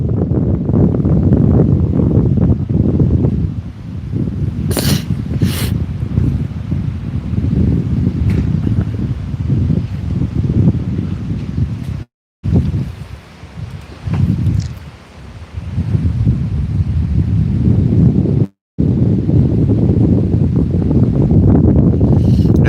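Steady breeze blowing across a sailboat anchored in Raja Ampat, Indonesia, a loud, continuous rushing hiss with gusts that swell and ease, cutting out briefly twice.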